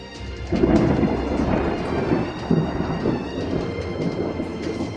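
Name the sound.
thunder outside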